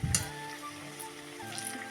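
Pakoras fry in hot oil, giving a soft, steady sizzle that stays fairly quiet, with a couple of faint clinks and no talk.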